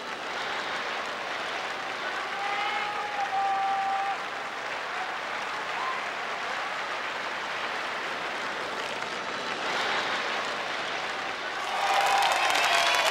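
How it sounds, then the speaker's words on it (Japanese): Stadium crowd roaring with a sustained wash of cheering and applause at the National Stadium in Tokyo, 1991 World Athletics Championships, as a 400m race starts, steady and distant with a rise near the end. "さあ早くも大歓声が起こっています国立競技場"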